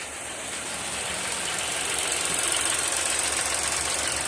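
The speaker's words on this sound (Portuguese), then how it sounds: "o barulho que faz aqui dentro do carro" Engine noise heard from inside a 2023/24 Chevrolet Montana 1.2 turbo with a suspected engine fault, a steady broadband hum and whine with a low rumble that grows slightly louder, no speech.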